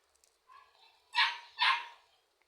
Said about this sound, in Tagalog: Napakaingay naman ang aking mga doggy.